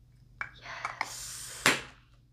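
Spray bottle giving several short misting sprays, quiet and close, with brief hissing bursts and a stronger final spray that trails off.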